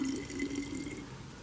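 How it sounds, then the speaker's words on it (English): Water running steadily from a tap into a bottle being filled, a continuous close splashing, trickling flow that holds even across the short span. "you fill it up with water"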